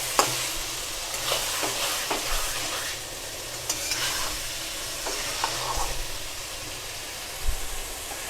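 Small onions and taro frying in a pan, with a steady sizzle and occasional scraping stirs close by; no talking.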